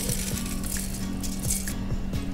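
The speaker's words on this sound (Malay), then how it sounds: "kita masukkan 4 cawan beras ke dalam periuk" Four cups of dry rice poured into a cooking pot for nasi, a continuous grainy rattle and patter of grains hitting metal, close and steady without pause, no talk.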